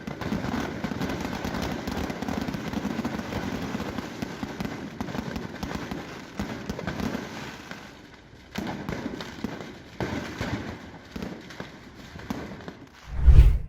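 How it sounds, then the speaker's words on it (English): A botched fireworks display in Italy crackles and pops in dense, continuous rapid bursts, with a heavy boom near the end, loud and close. "And these were some firework fails in Adelphi, Italy."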